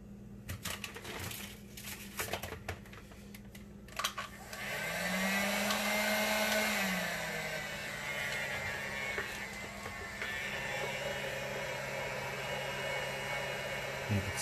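Heat gun blowing on carbon fiber vinyl wrap over car interior trim, a continuous airy roar that swells after a few seconds of handling clicks and rustles, holding steady with a faint tonal hum underneath.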